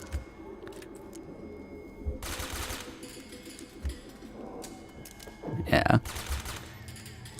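MP5 fire from the video game Metal Gear Solid 4 comes in a few short, sharp bursts amid quiet game ambience, with a brief spoken word partway through.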